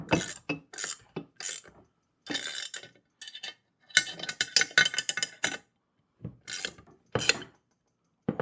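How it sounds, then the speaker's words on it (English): Wrench work tightening 13 mm bolts while assembling a heavy-duty four-wheel garden dump cart, heard as a series of short metallic ratcheting and scraping bursts with pauses between them, close and fairly quiet, with no talking. "let me get another wrench so we can tighten it down a little bit better"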